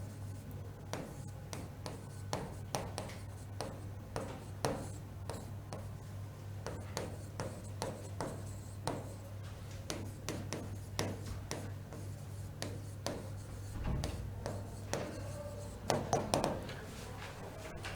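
Pen scratching steadily across paper as notes are written in Hindi, a run of short strokes and taps close by over a low steady hum, with no talk.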